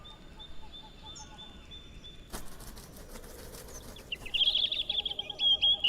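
Birds call and chirp in a forest, with soft repeated tweets early on and a brighter, louder warbling song near the end, over a quiet outdoor background with a brief rustle or flutter.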